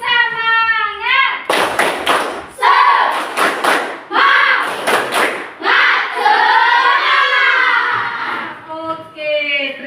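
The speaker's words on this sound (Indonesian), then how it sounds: "Coba dulu tepuk semangat lagi." Schoolchildren in a classroom do a spirit clap, loud unison claps in quick rhythmic bursts broken up by chanting voices between the clap groups.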